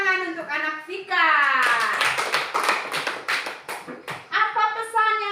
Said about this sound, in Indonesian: Tepuk tangan untuk anak Vika.